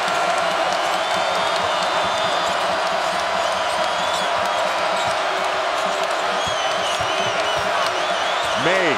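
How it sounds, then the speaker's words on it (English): A crowd at a college basketball game between North Carolina and NC State in an arena in Raleigh roars and cheers in a steady, loud wash, with sneaker squeaks and a commentator talking over it. "And the crowd is roaring again here in Raleigh."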